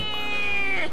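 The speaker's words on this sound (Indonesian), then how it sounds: "gue nangkap kucing dulu" A cat meows once in a long, loud, drawn-out call that rises and then falls, close by, with no talk over it.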